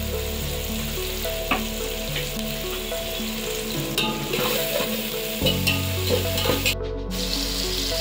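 Onion, cinnamon, cloves and green chilies fry in hot oil for a gonguura chicken curry, giving a steady close sizzle with repeated scraping stirs and clinks throughout, no voices.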